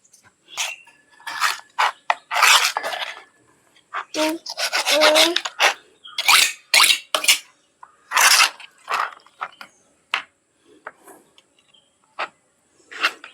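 A knife cuts through a cleaned, slightly aged tuna being prepared for fish pickle, producing irregular close scraping and crunching strokes separated by brief pauses, with no talking.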